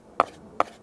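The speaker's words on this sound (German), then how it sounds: "wird sie jetzt dann in kleine Stücke geschnitten" Two sharp knife chops through a tomato on a cutting board, evenly spaced about a beat apart, close and crisp with quiet pauses between.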